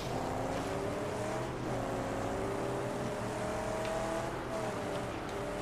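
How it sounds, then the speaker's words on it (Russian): In the Mad Max video game, a heavy car pulls up with a loud, continuous engine rumble and revving drone that holds steady close by. "Тут какая-то жесткая тачка приехала."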